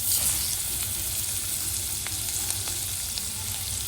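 Boiled cluster beans hit a hot pan already holding asafoetida, turmeric and kitchen king masala, raising a loud, dense, continuous sizzle that holds steady throughout, close up.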